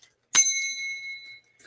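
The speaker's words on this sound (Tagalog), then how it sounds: "May bell pala ako dito." A small bell, likely a tabletop bell, is struck once with a bright ring that decays over about a second during a card game booster box opening; a faint voice comes in at the very end.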